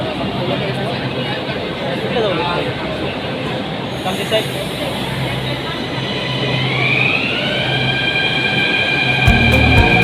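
A Delhi metro train rumbles steadily through a station, its roar building near the end with a rising electric whine and a brief squeal, voices faint underneath.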